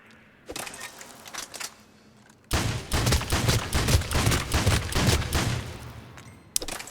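Piranha shotgun from Mass Effect 3 fired on full auto: a sustained, loud burst of rapid blasts running for about four seconds, preceded by a couple of quieter shots and ending with one more sharp report.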